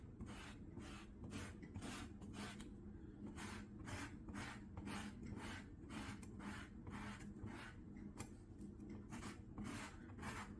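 A lemon is rubbed against a hand grater to take off its zest, giving a quiet, close, rhythmic series of rasping scrapes at a steady pace, with no voices.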